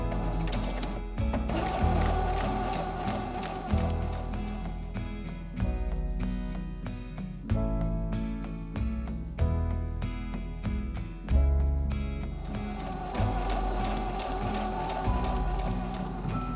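A sewing machine runs steadily, stitching a 1 cm seam on a Christmas stocking with an embroidered name. The whir is close and continuous, with a few brief pauses, and it plays under background music rather than talk.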